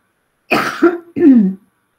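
Two close coughs in quick succession, loud and near, with a short pause between them and no talking.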